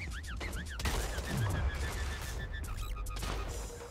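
Video game gunfire crackles in rapid bursts through a dense, busy mix of other game effects and warbling tones, loud and continuous for several seconds without speech.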